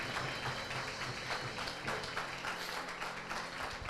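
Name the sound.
congregation applause in church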